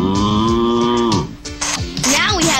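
A dairy cow moos loudly and close by, one long drawn-out low call that falls off partway through, followed by shorter mooing sounds and some background noise.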